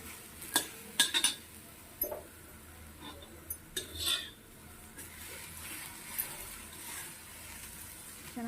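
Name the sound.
stirring chopped bitter gourd in a pan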